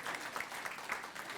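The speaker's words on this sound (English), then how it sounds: "So give her a round of applause." An audience applauding at a public service award ceremony, a dense steady patter of many hands clapping at moderate distance, brief and with no one talking over it.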